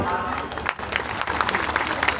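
Brief, steady applause from a crowd at a Santhali language celebration in Katihar, honouring a newlywed, with voices mixed in throughout.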